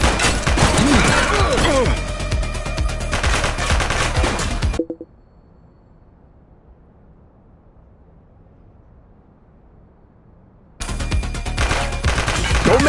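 Gunfire in the police game The Precinct, loud bursts of shots at the start, then near silence for several seconds before another heavy volley resumes.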